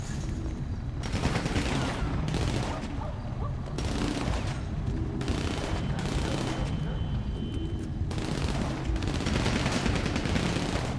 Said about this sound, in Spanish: ¡Tiros! ¡Tiros a tu espalda